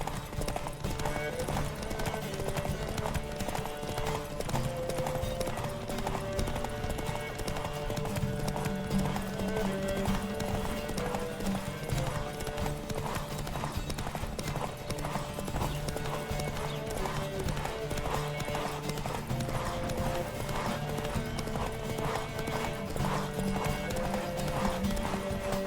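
Horse hooves gallop in a steady, rapid clip-clop throughout a ride in The Witcher 3: Wild Hunt, loud and continuous beneath a sustained orchestral music score.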